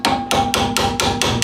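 A hammer drives a drift punch to knock a brake wedge out of the rear brakes of a Peugeot 206 CC: seven sharp, evenly spaced metallic strikes in quick rhythm, close and loud.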